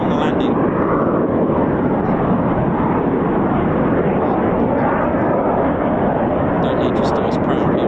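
Red Arrows jet aircraft landing at RAF Waddington, a loud, steady, broad roar that holds for the whole stretch with no break.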